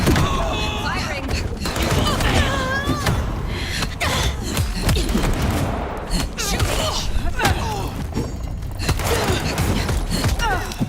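Gunfire and combat clatter from the game Vampire: The Masquerade - Bloodlines 2, with repeated sharp bursts and thuds spread across the scene amid mechanical creaks and voices.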